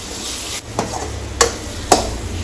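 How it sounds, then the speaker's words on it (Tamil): Chopped tomato sizzles in hot oil with chili powder for a traditional fish curry, with several sharp stirring scrapes of a spoon in the pan over a steady frying hiss, no voices. "1 தக்காளி சின்ன சின்னதாக அரிஞ்சு வச்சுருக்கேன், அதையும் போட்டுருங்க."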